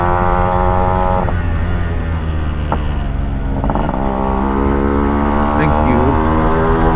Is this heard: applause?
no